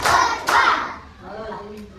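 A first-grade class claps hands together in a counting clapping game, two sharp close claps near the start followed by a voice and fainter room sound.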